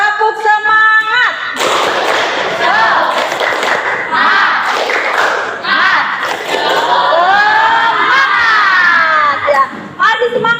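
Schoolchildren in a classroom shout a lively group cheer chant with claps and thumps, a loud burst of many young voices after a brief pause, rising and falling over several seconds.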